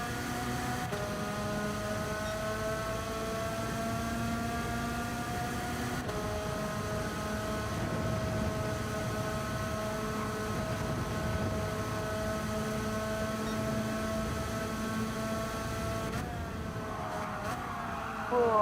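Go-kart engines racing in Gran Turismo 7, a continuous droning whine with several engine tones that hold steady and shift in pitch as they rev, loud and close, with no talk.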